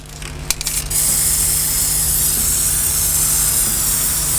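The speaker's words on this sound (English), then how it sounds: "you take a can of clear spray paint" Clear spray paint hissing from an aerosol can onto a costume outfit, a few rattling clicks at the start, then a loud, close, continuous spray that holds steady to the end.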